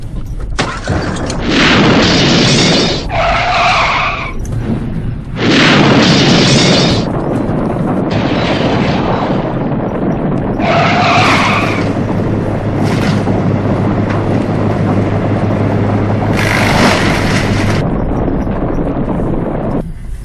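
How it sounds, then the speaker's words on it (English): A car drives down a rough unpaved street in East Portland, with loud buffeting wind noise and bumpy rumbling bursts that come and go over a steady low engine drone. "Here's a drive down one of our many unpaved streets."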